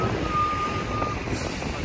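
Bus arriving from Masjid al-Haram in Mecca, its steady high reversing beep sounding over a loud, rumbling engine and a hiss of air brakes, all close by.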